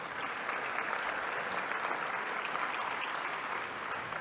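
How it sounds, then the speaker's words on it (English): Applause from a conference audience at an NGO forum held at UNESCO, a steady, even wash of clapping heard from a middle distance with no voices over it. "Give him another round of applause, ladies and gentlemen."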